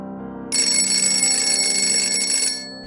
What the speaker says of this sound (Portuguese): O telefone tocou exatamente às 21 horas, um som antigo, como se saído de outra época.